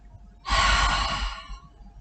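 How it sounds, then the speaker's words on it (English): A single forceful exhale through the mouth after a long held breath, during uddiyana bandha breathing practice. It is a loud, close, breathy rush lasting about a second, then fades off. "then you exhale through the mouth"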